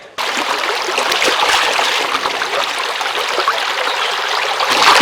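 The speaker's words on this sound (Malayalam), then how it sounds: "ചേന നന്നായിട്ടൊന്ന് കഴുകിയെടുക്കുകയാണ്." Elephant foot yam being washed in a stream, with steady, close running water and trickling splashes continuing throughout, no talking.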